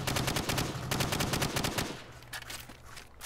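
Automatic weapon fire at targets on a range in Call of Duty: Modern Warfare, a rapid, loud, continuous burst that stops abruptly and gives way to a few lighter, scattered shots.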